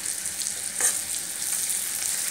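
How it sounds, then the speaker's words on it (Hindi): Chicken for chilli chicken fries in a pan with a continuous, close, hissing sizzle that stays fairly even throughout. "फ्राई करूँगी। उसके बाद फ्राई हो जाने के बाद थोड़ा कलर चेंज होने तक इसको भुनना है।"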